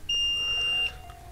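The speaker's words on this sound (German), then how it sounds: "Bei links und rechts zusammenkoppeln müsste es jetzt piepsen." A continuity tester beeps once in a steady, loud tone lasting most of a second while its probes bridge the linked left and right contacts of a 3.5 mm jack plug being fitted to a lavalier microphone.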